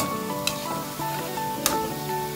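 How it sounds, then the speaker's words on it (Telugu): Peanut pakodi made with sorghum flour sputter and sizzle in hot oil as they are turned, with a constant close fry broken by two sharp scraping clicks. "వేసుకున్నాక తిప్పుకుంటూ ఫ్రై చేసుకోవాలి"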